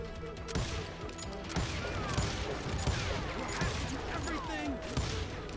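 Gunshots in the video game Call of Juarez: Gunslinger, a scatter of sharp shots and mechanical clicks beneath someone talking throughout.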